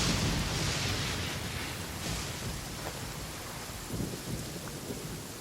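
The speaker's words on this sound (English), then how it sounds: "Quite a downpour." A heavy downpour with rumbling thunder in the video game Genshin Impact: steady loud rain hiss under deep low rolls of thunder, with a few sharper cracks, and no voices.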